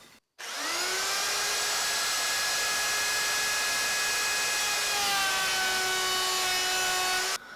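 A router fitted with a round-over bit, its bearing removed, runs as a steady high-pitched whine while cutting a wooden test piece, with the tone dropping slightly partway through before it stops.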